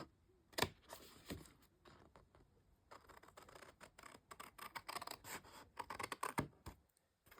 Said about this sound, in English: I'm going to cut down one of the score lines, past the little notch, that little spine bit, and then just cut diagonal.